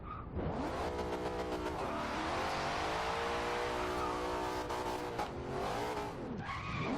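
A Ford F-150 SVT Raptor drifts in the racing game Forza Horizon 2, its tires skidding and squealing in a loud continuous slide over a steady revving engine, with no talk.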